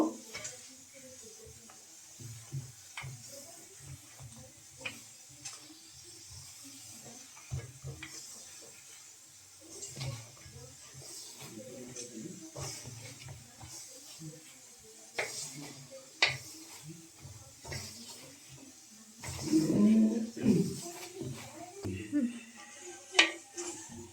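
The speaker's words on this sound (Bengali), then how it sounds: "ধনে পাতা আর কাঁচা লঙ্কার পেস্টটা দিয়ে দেব। দিয়ে খুব ভালো করে মেখে নেব।" Coriander leaf and green chilli paste being mixed by hand into a potato filling for aloo paratha, soft squelching and stirring with light clicks of a utensil against a bowl throughout.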